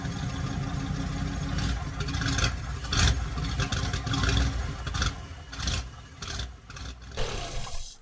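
A car engine sputters and falters as the vehicle breaks down on a highway through a forest at night, in an animated horror story, with uneven low rumbling and bursts of louder noise that fade and surge over several seconds.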